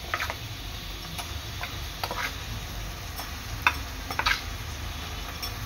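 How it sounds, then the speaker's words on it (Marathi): Ground masala paste sautéed in hot oil with browned onions for crab masala, a soft continuous sizzle broken by irregular light ticks and scrapes of a spoon against the pan. "वाटण यांना चांगलं तेलावर परतून घ्यायचं आहे।"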